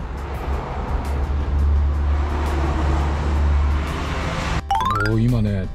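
Toyota Alphard fitted with new BFGoodrich off-road tires rolls slowly along at low speed, a low steady rumble of engine and road noise, and a voice speaks briefly at the end.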